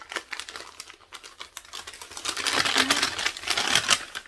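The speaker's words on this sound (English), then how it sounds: "Sorry for the crinkling." Packaging crinkles as an advent calendar gift is opened: close, irregular crackling and rustling, sparse at first and then denser and louder toward the end.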